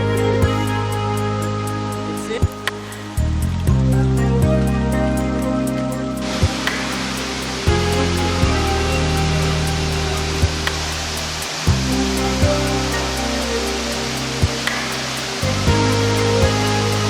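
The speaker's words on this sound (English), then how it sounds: "Let's start with the waterfalls." Waterfall in a Dominica tropical rainforest, a steady, loud broadband rush of falling water that continues without pause, with faint tonal hums running underneath.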